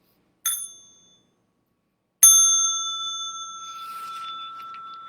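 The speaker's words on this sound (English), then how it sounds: "I'm going to invite the small bell for stretching and massage" A small meditation bell is struck twice, first a short ring, then a clear, bright tone that sustains and slowly decays in a quiet room.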